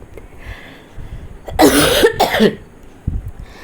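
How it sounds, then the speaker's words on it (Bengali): A person coughs harshly twice in quick succession, close to the microphone, with quieter throat sounds before and after. "প্রচণ্ড কাশি হচ্ছে আমার"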